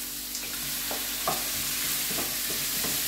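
Tomatoes sizzle and are stirred in a frying pan with chicken fillet and garlic, a constant hiss of frying with several soft scraping stirs spaced through the clip and no talk.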